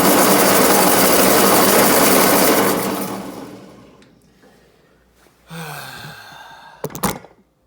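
Starter motor on a 1952 Ford 8N tractor cranking with a loud, steady whirring drone that fades out over a few seconds as the burned-up starter quits, followed by a few quieter clunks and rattles.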